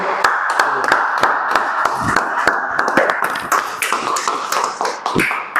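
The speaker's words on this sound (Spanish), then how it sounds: "Un aplauso para todos." A small audience at a talk on socialist thought in Venezuela applauds. A handful of crisp, separate hand claps ring out in an uneven rhythm, close by, over about five seconds with faint murmuring.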